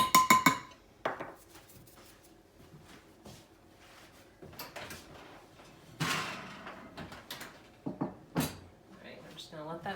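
A cast iron skillet handled in a kitchen while making buttermilk biscuits: scattered metallic clanks and knocks, loudest near the start and again after six seconds, with a person talking in between.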